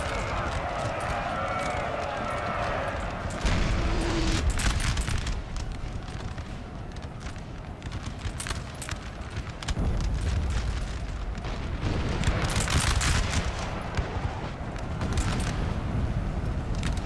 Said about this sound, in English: the large chunk is just blown away by their own artillery